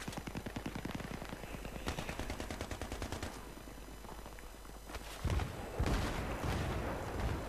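Rapid automatic bursts from an AUG A3 rifle in Battlefield 3 come as rhythmic, evenly spaced shots, with a pause and then heavier, louder shots near the end.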